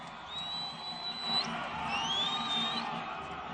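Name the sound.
crowd clapping and cheering for Raila Amolo Odinga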